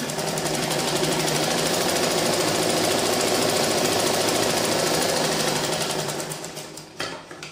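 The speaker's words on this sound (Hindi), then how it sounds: "और फिर इन दोनों को सिलाई लगा दो।" A sewing machine stitches fabric for a girl's frock, with a loud, continuous rapid whirring hum that runs steadily for about six seconds, then slows and stops with a few clicks at the end.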